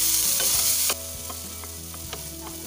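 Onions frying in oil in a pan, a continuous close sizzle with a sharp crackle at first, then settling into a softer steady hiss punctuated by scattered clicks of stirring.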